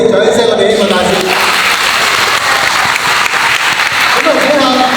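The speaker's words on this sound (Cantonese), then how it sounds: "好，非常好，俾啲掌聲我哋希望大使。" A church event crowd breaks into a burst of applause for its volunteer ambassadors, the clapping swelling and continuing steadily, with a speaker's voice audible at the start and the end.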